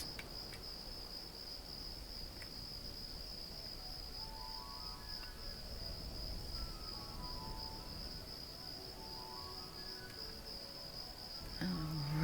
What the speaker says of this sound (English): Sound of crickets.